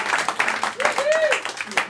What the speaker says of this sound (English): Those of you clapping, thank you.